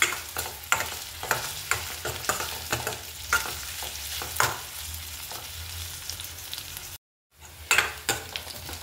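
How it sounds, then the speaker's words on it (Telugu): Chopped onions fry in a pan on a gas stove set to low flame, with a steady sizzle and intermittent scraping stirs of a spoon, broken by a brief silent gap near the end. "చూడండి, వేగిపోతుంది ఉల్లిపాయ."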